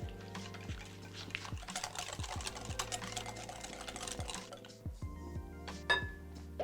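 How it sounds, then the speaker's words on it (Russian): Quick, light clinking and tapping of a whisk against a bowl while mixing cake batter, a busy irregular rhythm up close, fairly quiet, with no talking. "И просто все перемешиваем венчиком до однородности"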